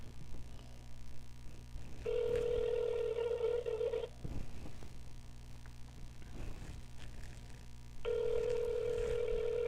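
A telephone rings with no answer, two long electronic ring tones separated by a pause of about four seconds, heard close and clear over a low background hum with no talking.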